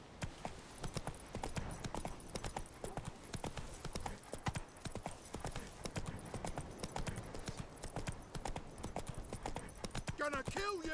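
Roach, a horse in The Witcher 3, gallops with a steady, rapid clip-clop of hooves running throughout, loud and close, while a voice talks over it and a brief whinny-like sound rises near the end.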